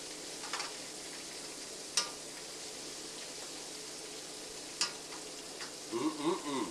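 Bluegill frying in a pan hisses with a soft, steady sizzle, broken by a few sharp pops, and a brief clatter near the end.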